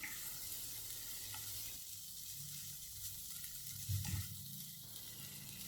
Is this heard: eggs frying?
yes